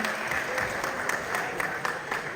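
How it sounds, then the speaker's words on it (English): Steady applause from an audience at a Kathakali expressions session, a dense even patter of many hands clapping throughout at moderate loudness. "Give yourself a round of applause."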